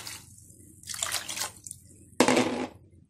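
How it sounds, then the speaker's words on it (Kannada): Water poured from a cup into a mixed millet blend for bisibele bath, splashing in two or three close, uneven bursts with pauses between. "ಮಿಕ್ಸ್ ಸಿರಿಧಾನ್ಯನ 12 ಕಪ್ಪಷ್ಟು ನೀರು ಹಾಕ್ತಾ ಇದ್ದೀನಿ"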